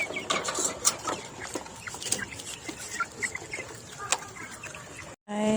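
Chickens clucking and squawking in a backyard garden where ducks are also kept, close and irregular calls over a busy rustling background, ending with a brief silent gap.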